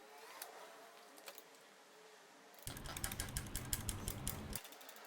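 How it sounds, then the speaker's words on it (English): Ratcheting of a lug wrench or jack working on one corner of a 1995 Jaguar XJ12 (X300): a faint tick, then a loud, dense stretch of rapid mechanical clicks for about two seconds before it stops. "Loosen the lug nuts and jack up the corner."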